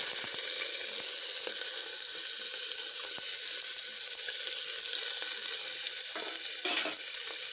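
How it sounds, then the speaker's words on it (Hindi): Steady sizzling and crackling of onion and chili frying in hot oil, with occasional stirring clinks, continuous and close throughout. "अब मैं इसमें ये जो प्याज है वो डाल दूंगी, प्याज और मिर्ची"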